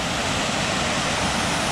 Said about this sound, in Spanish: la cascada